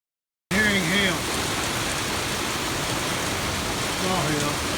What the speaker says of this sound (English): Hearing hail.